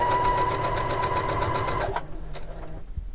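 A sewing machine runs steadily, stitching two fabric layers of a cushion cover together, its fast rhythmic whirr loud and close for about two seconds before stopping, leaving quieter handling noises.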